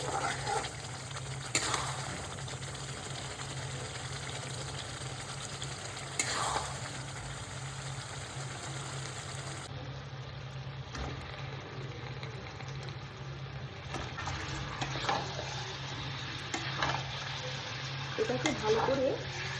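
Mutton masala with onion, ginger, tomato and garlic frying in a pan, a low continuous sizzle with occasional scraping strokes of a spatula, under a steady background hum.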